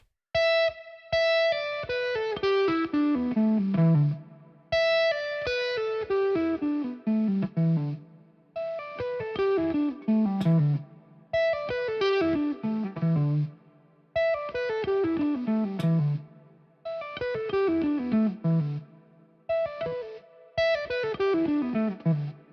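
Distorted electric guitar plays smooth, flowing legato runs, repeated phrases descending in pitch with short pauses between, loud and close.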